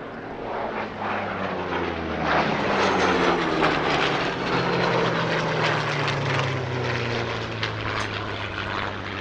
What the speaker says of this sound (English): Good opportunity to enjoy the combined sounds of the Merlin and the Griffin